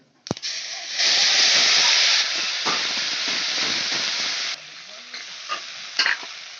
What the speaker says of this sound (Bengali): আদা জিরে শুকনো লঙ্কা বাটা এই যে আমি পেস্ট করেছি শিলনোড়া বাটা টাইম নিয়ে পেস্ট করছি ঢেলে দিলাম কড়াইতে